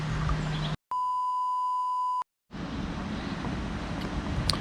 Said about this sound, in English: timer just went off